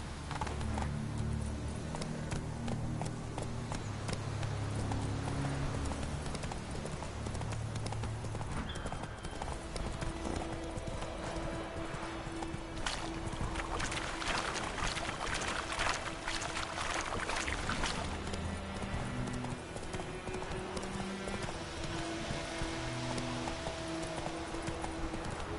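Roach the horse gallops in The Witcher 3, with steady rhythmic hoofbeats that run on and on over game ambience and music, and a faint whinny now and then.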